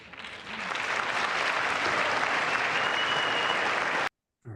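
Broad, sustained applause fills a large chamber during a State of the Union address, many hands clapping steadily at full strength for about four seconds before cutting off abruptly.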